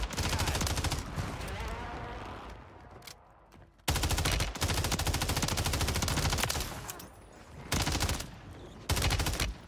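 Heavy automatic gunfire in a Warzone 3 match, dense loud rapid bursts broken by a few short pauses, with faint voices now and then underneath.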